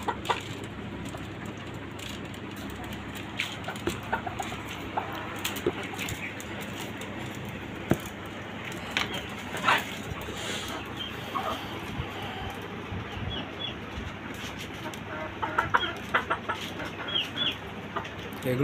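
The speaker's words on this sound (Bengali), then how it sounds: "বাড়ির ছাদে আপনার খাঁচা বিশিষ্ট একটি মুরগির খামার।" Chickens in cages on a rooftop farm with native and foreign breeds give scattered, soft clucks and calls against a quiet outdoor background.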